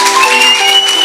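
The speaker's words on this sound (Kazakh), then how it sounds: "Қошеметлеп қояйық. Шапалақ қайда?" Applause at a wedding party, a crowd clapping in a dense, even wash, loud and close, with sustained tones of background music running through it.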